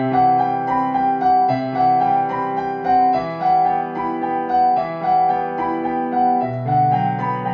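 A piano right-hand pattern plays as a gentle repeating figure of clear sustained notes over a soft low bass, steady and close with no talk.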